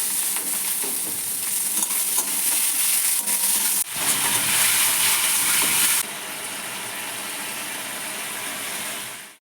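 Tomato goes into a pan of frying ginger–green chilli masala gravy, giving a loud, steady close sizzle with stirring scrapes that settles into a quieter continuous fry.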